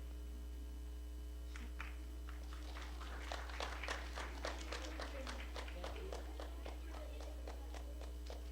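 Faint, regular hand claps from an audience clap along with a children's kirtan at the Radha Madhav Dham temple, over a steady electrical hum.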